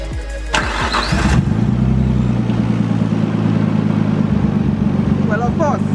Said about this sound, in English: this car sounds absolutely great without a blower valve